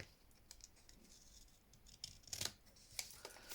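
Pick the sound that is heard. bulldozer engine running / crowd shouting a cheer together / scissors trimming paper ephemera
scissors trimming paper ephemera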